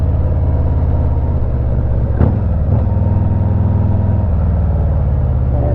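Motorcycle on the hairpin turn of the Mohawk Trail in North Adams, Massachusetts, a loud, steady engine drone with a constant low rumble and two brief sharp knocks midway.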